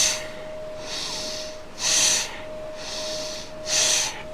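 Deep nasal breaths during a yoga class, two hissing inhalations about two seconds apart, close and clear with a faint steady tone behind them and no talking.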